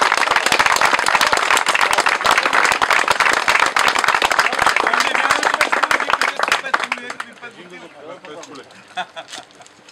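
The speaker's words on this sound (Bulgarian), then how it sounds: "Аплодисменти за дамите на събора!" Applause breaks out for the women at a tenth-anniversary gathering of a Moskvich car club in Bulgaria, dense, loud clapping from a crowd that gradually thins and fades into scattered claps with voices near the end.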